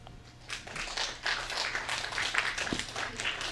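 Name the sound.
audience clapping in response to a question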